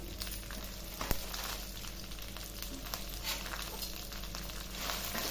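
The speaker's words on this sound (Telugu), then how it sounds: "వీటిని దోరగా వేయించుకుందాం ఎండు మిరపకాయలు కొంచెం పచ్చిపప్పు మినప్పప్పు అవన్నీ వేగే వరకు వేసుకుందాము" Dried red chillies, curry leaves, cumin and lentils fry in hot oil, a dense steady sizzle with scattered crackles and a sharp clink near the start, close and continuous without talk.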